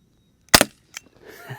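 A primer-powered X-Ring rubber bullet fired from a real firearm gives one sharp, loud report, followed by a fainter secondary crack and a low rustle of handling noise afterward.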